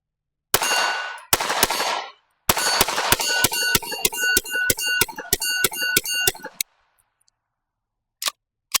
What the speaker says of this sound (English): I'm going to do a mag dump real quick